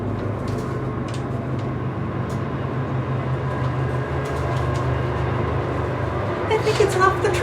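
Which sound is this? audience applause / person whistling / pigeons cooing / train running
train running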